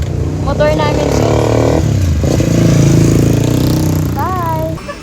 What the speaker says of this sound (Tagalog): Motor namin siya.